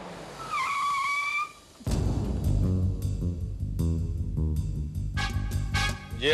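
A car turning on a road, opening with a high tire squeal that fades out, followed by a loud, rising engine roar that carries through to the end.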